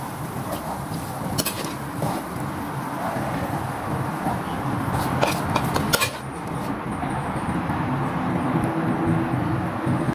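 Pots and metal utensils clatter as spiced fried potatoes in red chili sauce are lifted from the pan and served, with scattered scraping and clinks over a steady background hum.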